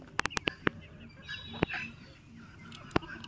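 Turkeys on a farm in Assam call out in a burst of short honking gobbles, several quick calls followed by a couple of isolated ones, moderately close over a quiet yard.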